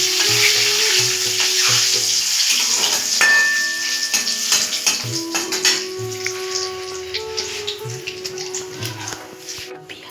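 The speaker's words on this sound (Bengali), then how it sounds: "পেঁয়াজটা আমি ভেজে" Onions frying in oil in a home kitchen pan, a steady hiss and sizzle running throughout, with clinks of a metal utensil against the pan and some speech under it.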